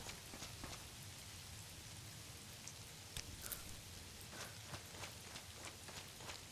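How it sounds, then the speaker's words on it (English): Steady rain falls continuously outdoors, a dense even patter on surfaces with scattered closer drops tapping throughout, no voices present. "If you're worried sick and if you're not having your best day, this constant rain is not exactly"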